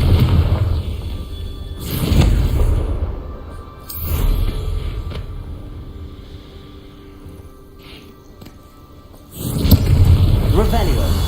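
In Hogwarts Legacy, Confringo explosion spells go off as three deep booming bursts spread across the stretch, with a voice speaking over the game sound.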